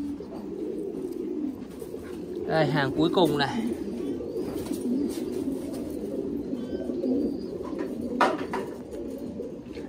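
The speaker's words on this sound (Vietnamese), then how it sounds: "Chim bồ câu Titan thì nuôi dễ lắm mọi người." Thai Titan pigeons cooing in cages at a breeding farm, a low steady murmur of coos throughout with a brief flutter of wings, while someone talks over them.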